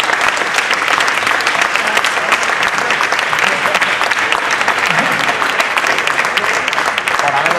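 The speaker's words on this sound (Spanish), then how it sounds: "Así que a ellos que nos han acompañado yo les pediría con un aplauso" A large seated audience at an education conference in Madrid claps loudly and continuously the whole time in an even, dense roar.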